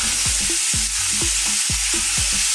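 Sliced zucchini courgettes fry in a hot pan, a steady loud sizzle broken by repeated scraping and stirring strokes, with no talking.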